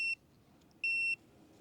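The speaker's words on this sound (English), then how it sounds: "When tire pressure is lost, you hear a high beep." Two high, piercing electronic beeps from a Masoll M23 RV tire pressure monitor warning of lost tire pressure, the first short and the second longer, over a quiet low hum.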